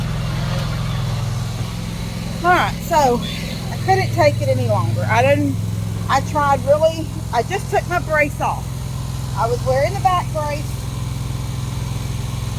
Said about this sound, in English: Y'all hear that in the background? That's my lawnmower.